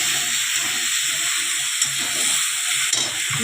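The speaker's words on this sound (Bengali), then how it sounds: "মশলাটাকে কষিয়ে নিই" Masala spices fry in a hot pan for khichuri, giving a steady, close, loud sizzle and hiss that does not let up, with a couple of faint stirring clinks and no talking.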